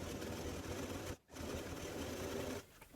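A sewing machine stitches a flattened fabric tube onto brown velvet, a steady close whir that briefly cuts out before running on again and stopping near the end.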